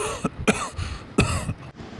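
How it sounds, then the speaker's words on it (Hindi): A sick, elderly man coughs indoors in several harsh, close bursts spaced over a couple of seconds, with some throat-clearing between them. "कोई अंदर खांस रहा है। किसको इतनी खांसी हो रही है?"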